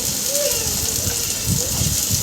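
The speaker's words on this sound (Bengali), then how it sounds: "আলুগুলোকে ভালোভাবে ভেজে নেওয়া হচ্ছে।" Potatoes fry in hot oil in a pan with chillies, dried red chillies and cumin, making a loud, steady, close sizzle that holds throughout.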